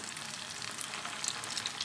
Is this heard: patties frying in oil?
yes